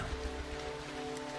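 Steady rain patters on surfaces throughout, a dense, even hiss with a faint low hum beneath it and no talking.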